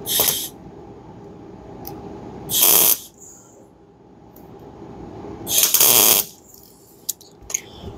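Short bursts of welding tack a car quarter panel into place, three separate harsh buzzing crackles of about half a second each, close and loud, with quieter hissing and clicks between them.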